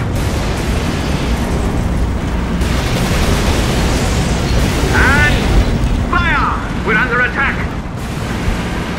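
Artillery fire and explosions in the World War II strategy game Codename: Panzers – Phase One rumble as dense, continuous booms under a noisy battle bed, with short voiced calls breaking in near the end.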